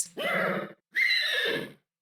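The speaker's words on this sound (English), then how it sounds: "We're going to take off the horn and I'm going to listen to the neigh." A horse neigh from a video game, two loud close whinnies in a row, each a rising then wavering tonal call with a brief gap between them and no speech.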